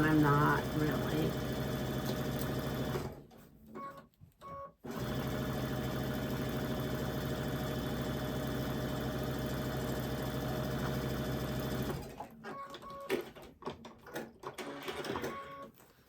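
Sewing machine running steadily while chain piecing scrappy quilt blocks, a close, continuous mechanical whir that pauses briefly around four seconds and turns uneven near the end.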